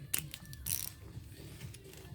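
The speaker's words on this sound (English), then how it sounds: "Hook the ratchet back up." A ratchet wrench clicks while tightening bolts during assembly of a 2025 RPS Hawk 250 DLX motorcycle, giving a few sharp close bursts of ratcheting and a faint light clatter in between, with no talking.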